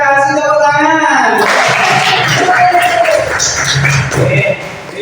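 A class of schoolchildren breaks into scattered hand clapping in a classroom lesson, following a brief spoken phrase, with talking continuing over the applause.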